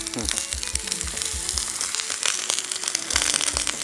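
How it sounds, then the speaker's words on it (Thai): Fish sizzles and spatters loudly on a hot Thai mookata grill pan, with rapid crackling pops and bursts of hiss over a constant frying noise. "โอ้ยเดือดมากเลยค่ะ ตอนนี้กระทะปะทูมาก"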